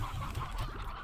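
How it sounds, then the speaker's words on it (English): Hens clucking in the video game Slime Rancher, soft repeated low clucks and murmurs, faint and close, with no one talking. "Here, go in there, little hens."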